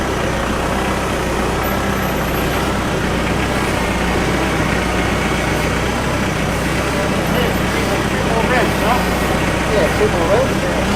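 Kubota tractor engine running hard with a steady, loud drone that swells slightly as it revs toward the end, close by and continuous.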